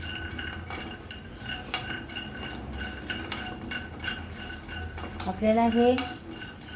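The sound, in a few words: dry roasting ingredients in a pan for dink ladoo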